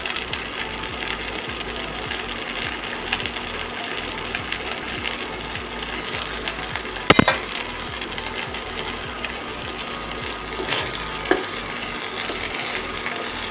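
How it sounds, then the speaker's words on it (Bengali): Egg pulao rice being stirred in a pot with a spoon after butter is added, a steady low scraping and soft sizzle throughout, with one sharp clank near the middle. "দিয়ে ভালো করে এটাকে নেড়ে চেড়ে দেবেন"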